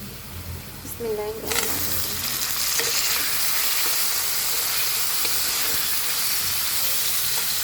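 Onion fries lightly in a hot pan for a potato and eggplant chorchori. After a brief quieter moment, a loud sizzle bursts in abruptly and holds as a dense, continuous hiss, with faint stirring scrapes underneath.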